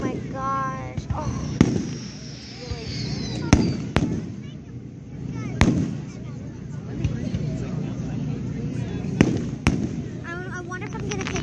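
Fireworks bursting outdoors, with a string of sharp, loud cracks and pops spread across the scene, some with crackling tails. People chatter and exclaim excitedly throughout.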